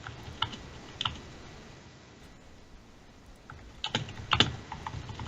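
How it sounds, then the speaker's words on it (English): Computer keyboard keys tapped in a few scattered clusters, with a dense burst of clicks near the end, close and moderately loud over a quiet background during a live hockey league draft session. "I'll just type it."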